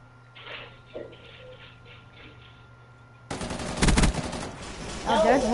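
Rapid automatic gunfire in the video game Apex Legends bursts in partway through after a quiet start with faint talk, loud dense shots rattling on to the end.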